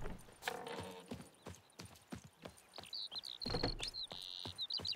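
In the video game The Witcher 3, the horse Roach gallops with steady, rhythmic hoof clip-clops, moderately close, with bright chirping ambience and no talking.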